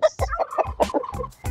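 A turkey gobbling on a pastured poultry farm, a rapid loud burst of warbling gobbles in quick repeated pulses, close and clear with no talk over it.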